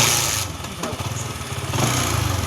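A motorcycle engine runs steadily close by, a loud continuous low rumble with a faint rattling pulse and no pauses.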